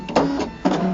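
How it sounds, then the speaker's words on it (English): A Brother ScanNCut cutting machine works on a mat, giving two short close mechanical whirring bursts of motor and carriage movement with a quieter hum between them. "I'm going to choose cut, and I'm going to let the machine do its thing."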